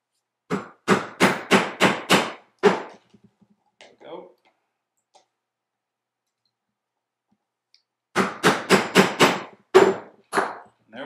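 Hammer striking leather laid on a wooden 2x4, two bursts of about six sharp, evenly spaced knocks each, loud and close, with a short quiet pause and faint handling between them.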